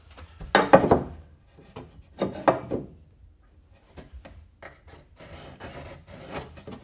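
A pencil scrapes a line across drywall along a speed square during DIY plumbing work: two close, scratchy strokes, followed by lighter rubs and taps.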